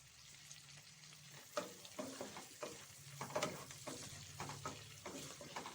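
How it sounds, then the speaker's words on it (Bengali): Capsicum and onions frying in a pan are stirred with repeated scraping strokes over a soft, steady sizzle, close and fairly quiet, in an irregular rhythm. "ভালো করে নেড়ে নিয়ে সেদ্ধ করে নিতে হবে ক্যাপসিকাম ও পেঁয়াজগুলো"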